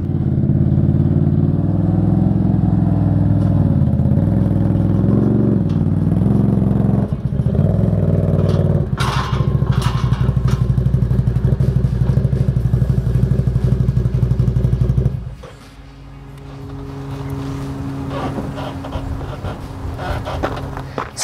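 An ATV engine runs loud and close as the quad climbs a pair of folding loading ramps, with revving shifts, clanking metal impacts partway through, then the engine settling to a steadier idle near the end.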